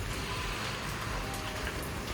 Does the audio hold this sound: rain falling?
yes